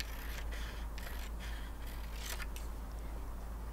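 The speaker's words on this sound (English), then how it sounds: "I just cut that with my scissors" Large scissors snipping through paper for a birthday banner card, a few faint crisp cuts spaced out over a steady low hum.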